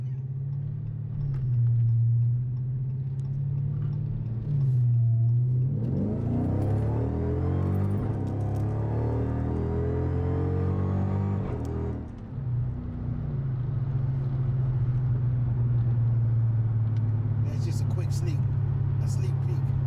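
A car engine revs up and roars loudly for several seconds, rising in pitch, then drops back to a steady idle rumble.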